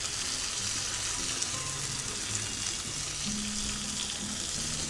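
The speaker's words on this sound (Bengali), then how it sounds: "এখন টমেটোটাকে নরম হওয়া পর্যন্ত ভাজব" A medium tomato, sliced lengthwise, fries in a pan with a steady, fairly soft sizzling hiss that runs unbroken throughout, with no voices.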